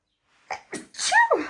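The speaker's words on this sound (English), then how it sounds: "I'm going to sneeze." One close, sharp sneeze after a couple of short intake breaths, ending with a trailing vocal burst.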